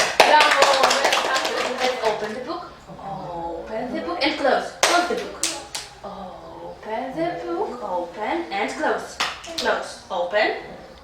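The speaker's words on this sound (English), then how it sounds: "Let's clap" Young children in an early English class in Kiev clap in bursts of sharp slaps between stretches of an adult speaking, loudest at the start and returning later.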